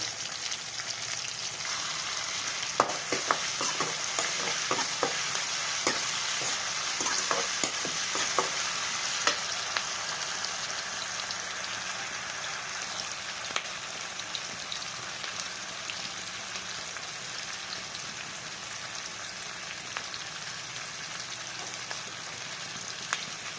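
Onions frying in a pan on high flame with salt added, a steady soft sizzle throughout with a cluster of light scraping stirs early on, fairly quiet and with no voices.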